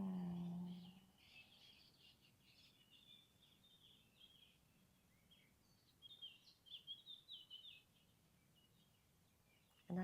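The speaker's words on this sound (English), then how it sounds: "And I could be here listening to the birds forever." Faint birdsong drifts through a quiet forest outdoors, soft distant chirps spread across the clip with a slightly busier cluster of calls toward the end.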